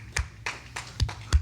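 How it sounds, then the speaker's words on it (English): A few sparse, separate claps from a church congregation during a Mother's Day sermon, four distinct sharp hits spaced unevenly across a second and a half, close and fairly quiet. "We can clap."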